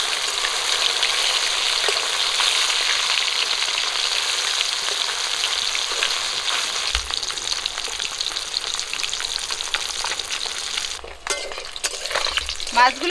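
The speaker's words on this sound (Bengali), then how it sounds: "মাছগুলো ভাজা হয়ে গেছে, তুলে নেব।" Bata fish frying in a pan of oil, a close, continuous sizzle and crackle, with a few clanks of a utensil near the end.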